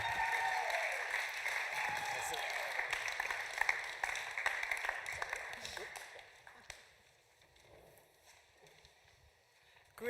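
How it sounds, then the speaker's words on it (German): A large audience at a church service claps steadily, loud and dense at first, then dies away about two-thirds of the way through, leaving a quieter room with scattered sounds. "dann gebt denen jetzt einen fetten Applaus"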